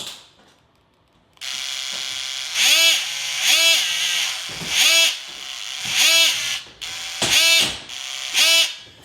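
A DeWalt oscillating multi-tool is eased on with its variable-speed trigger, giving a loud buzzing whine that swells and fades in six or seven repeated bursts after a short quiet start.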